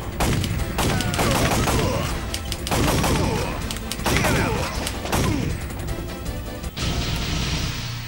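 Rapid light-gun shooting in the PS1 video game Time Crisis: dense bursts of loud gunfire crack over crashing impacts and game sound effects, continuing without pause throughout.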